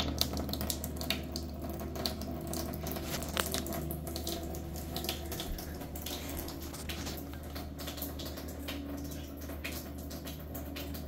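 Filtered drinking water runs from a home kitchen tap in a steady, continuous stream, with a close, even splashing into the sink and no voices.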